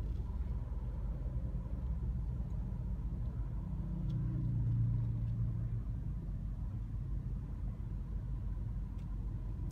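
Low rumble of a car rolling slowly over a free tyre pressure check strip on a roadway, a steady close engine and road drone with a brief swell of heavier rumble midway.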